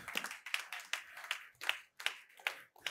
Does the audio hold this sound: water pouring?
no